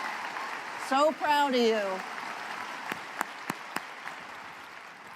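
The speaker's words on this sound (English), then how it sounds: "One more round of applause for all our students." Applause fills a university commencement ceremony, a broad steady wash of clapping from a large crowd, with someone speaking briefly over it near the start and a few sharp louder claps standing out later.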